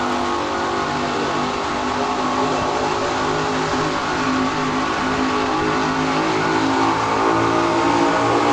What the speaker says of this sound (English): Punisher shaking, rattling, rolling down the track.